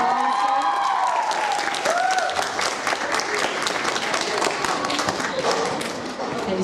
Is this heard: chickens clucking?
no